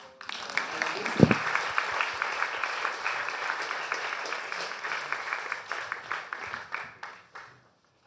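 Audience applause for a panel at a procurement event, a dense broadband wash of many hands clapping that starts abruptly, holds steady, then thins out and fades near the end, with one sharp thump early on.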